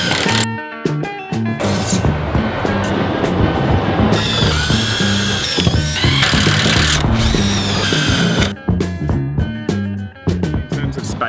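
Power drill driving metal screws into wicking bed panels, loud whirring bursts of varying length from the drill motor over a dense, busy background.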